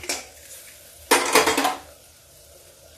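A metal lid is set onto a cooking pot of brinjal curry, making a single bright clatter with a short rattle as it settles. The sound is close and loud against a quiet kitchen background.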